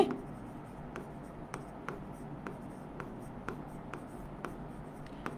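Writing on a board during a physics lesson, with faint, regular tapping strokes every half second or so over a soft room hiss, and no clear speech.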